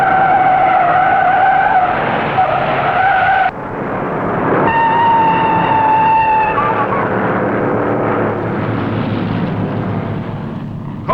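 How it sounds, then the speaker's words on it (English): Race cars at the 1960 Daytona 500 skid and slide across the track, four of them at once: sustained, loud tire squeals with a high whine ride over a continuous engine roar for the whole stretch. "Four cars slide all over the track"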